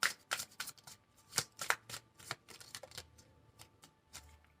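Tarot cards are shuffled and drawn by hand, producing a sequence of crisp, sharp riffling snaps and soft flicks at an uneven pace, close and fairly quiet with no talking.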